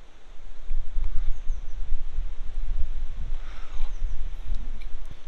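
Wind blowing outdoors buffets an external microphone on an iPhone, a constant low rumble that rises and falls in gusts throughout, loud and close, with no voice.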